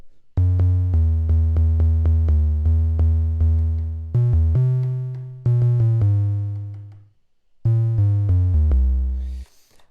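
Soft, mellow triangle-wave notes from an Arturia MiniBrute 2S analog synthesizer play a bouncy bass-register line, each note fading slightly, with a couple of brief pauses between phrases.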